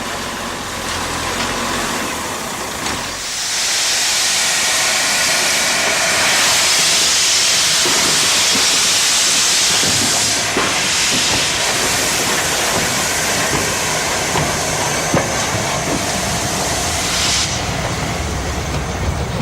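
Steam locomotive 4468 Mallard crosses the River Nid at Knaresborough on the Harrogate Circle line, a loud, sustained roar of hissing steam and rolling wheels swelling and holding for nearly twenty seconds with no voices.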